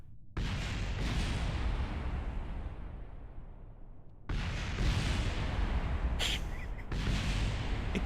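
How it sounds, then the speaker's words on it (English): Rocket explosions in Kerbal Space Program, a loud blast that fades into a long rumbling decay, then a second burst of repeated explosions crashing in near the end. "It just keeps exploding."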